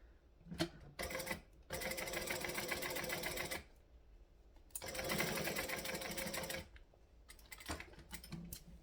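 A sewing machine stitches fabric in two long runs of fast, steady mechanical whirring and clatter close by, broken by short pauses with brief needle taps and small handling clicks.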